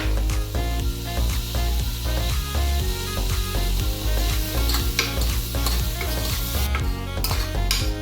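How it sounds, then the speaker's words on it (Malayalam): Potato, carrot and beans sautéed with salt in a pan, stirred over steady sizzling with scrapes and light clatter of the utensil, continuous and close. "ഉരുളക്കിഴങ്ങ്, ക്യാരറ്റ്, ബീൻസ്, ഇതെല്ലാം കൂടെ ഇട്ട് ഉപ്പും കൂടെ ചേർത്ത് ഒന്ന് വഴറ്റിയെടുക്കണം."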